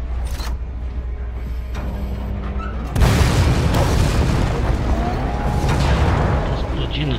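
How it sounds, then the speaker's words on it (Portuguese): Explosions in Resident Evil 2 Remake: after a low steady hum, a heavy boom hits suddenly and gives way to a sustained, loud rumbling roar with crackling debris that keeps going. "Tá explodindo tudo aí."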